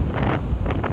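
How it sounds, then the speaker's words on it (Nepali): Wind buffets a microphone outdoors on a spring day, a loud, continuous low rumble with gusty swells across the whole second. "फेरि हावा चल्यो यार"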